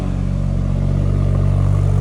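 A BMW M140i idles in sport mode with its exhaust valve opened, giving a loud, steady, deep rumbling burble with an even pulsing beat close to the tailpipe.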